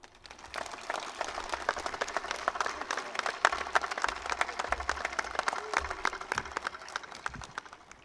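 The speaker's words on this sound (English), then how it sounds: "let's together give a round of applause for each other and all those who have guided us" A graduation crowd applauding at a 2021 ceremony, dense sustained clapping from many hands that swells and then tapers off toward the end.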